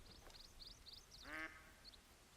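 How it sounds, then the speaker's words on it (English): Ducks quack in the Call of the Wild hunting game during a Thanksgiving hunt: a string of short, fairly distant calls, then one nearer, louder quack and a faint final call, with no talking. "I've been hearing the ducks out here somewhere."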